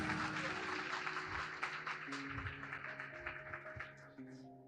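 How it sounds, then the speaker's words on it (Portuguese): A church congregation at an evening communion service applauds, a broad rolling clatter of many hands with sustained musical tones running underneath, fading slightly toward the end. "Dê uma salva de palmas ao Senhor"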